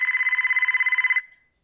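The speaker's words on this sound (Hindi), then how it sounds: "अचानक से उसके फोन की घंटी बज उठी।" A telephone rings in a rapid, steady electronic trill of repeated pulses for just over a second, then cuts off and decays into silence, clear and alone.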